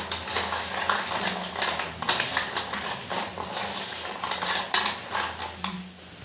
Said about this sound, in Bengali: তারপরে এই যে বড়িগুলো দিয়ে দিলাম। দিয়ে ভালো করে বড়িগুলো মাখিয়ে নিই।